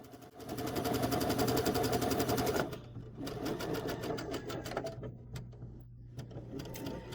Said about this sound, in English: Then I'm going to sew off the bottom, and I'm going to do the same thing on the bottom.